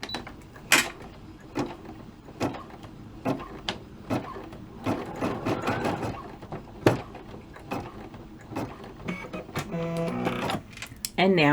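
An embroidery machine stitches ribbon onto an in-the-hoop crayon pouch, giving a rapid mechanical stitching chatter broken by sharp clicks and thumps, with someone speaking over it.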